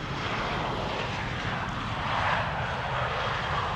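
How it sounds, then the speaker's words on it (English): Airbus A320 airliner jet engines spooling up for reverse thrust on landing at Amsterdam Schiphol, a steady broadband roar that swells slightly midway, heard from a distance without talk. "by actually hearing the engines spool up, you will know for sure whether or not they actually applied the reversers"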